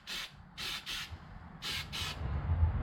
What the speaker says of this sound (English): I'm going to spray this first.